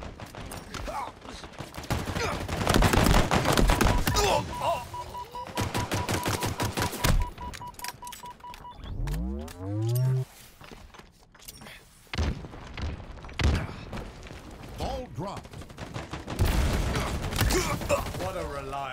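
Rapid weapon fire in a Halo Infinite Oddball multiplayer match, loud bursts of gunfire mixed with impacts and in-game announcer voice lines, plus a rising electronic whine partway through.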